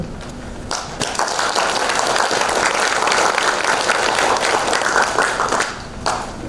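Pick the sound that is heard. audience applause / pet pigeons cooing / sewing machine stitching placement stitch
audience applause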